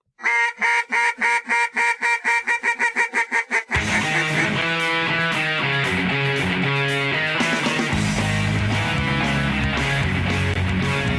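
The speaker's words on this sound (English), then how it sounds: "we're talking duck calls and duck hunting" A wooden-style duck call from 737 Duck Calls blows a rapid, accelerating run of loud, close quacks for about four seconds, then gives way to music.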